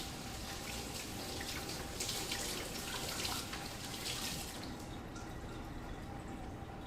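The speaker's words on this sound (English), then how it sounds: "I'm going to go ahead and just rinse these onions and make sure they're drained really well." Tap water runs into a kitchen sink while onions are rinsed, a steady splashing rush that shifts as the food is moved under the stream, then eases toward the end.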